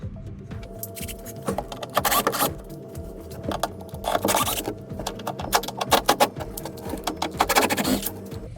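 Square-headed screws driven into wood while building a boat, with repeated whirring bursts from a power driver and some scraping and handling noise between runs, close and fairly loud.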